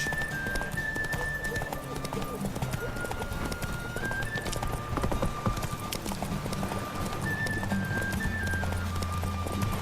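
Horse hooves gallop in a steady clip-clop rhythm through The Witcher 3, with occasional neighs over continuous game music and ambient sound.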